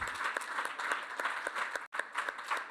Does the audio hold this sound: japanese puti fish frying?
no